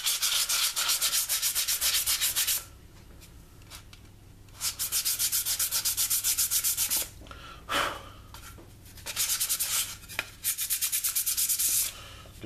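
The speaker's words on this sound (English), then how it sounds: "I'm using a real low grit sandpaper." Low grit sandpaper rubbed by hand over the headlight of a 1981 Camaro, rapid rhythmic rasping strokes in several bursts separated by short pauses, close and continuous.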